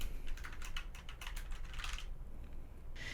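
Keys clatter on a computer keyboard while code is typed in an editor, a close, quick run of clicks for about two seconds, then a pause and one more short burst.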